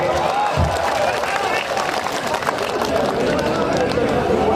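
A large crowd cheers and claps loudly and continuously at an outdoor Congress political rally in Kishanganj, a dense roar of applause and voices filling the whole stretch.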